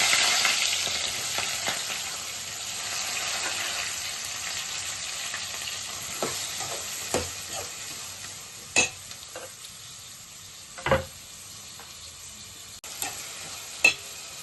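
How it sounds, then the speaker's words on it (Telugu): Chopped green chillies and onions frying in hot oil for an egg curry, a continuous close sizzle with a few sharp stirring clacks toward the end, no voices. "అదే ఆయిల్లో మనం కట్ చేసి పెట్టుకున్న పచ్చిమిర్చి, ఉల్లిపాయ ముక్కలు వేసుకుందాం."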